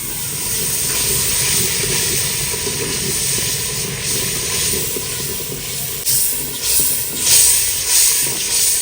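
Loud steady hiss and crackle of spices frying in a pan while cooking Sobat, a traditional dish from D.I. Khan, a continuous broadband sizzle with some clatter near the end.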